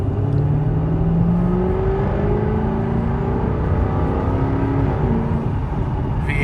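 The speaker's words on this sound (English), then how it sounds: "Really, really nice throaty exhaust sound coming through." Deep, throaty V8 engine of a 2016 Jaguar F-Type R revving up, pitch climbing steadily as the car accelerates, loud and close from inside.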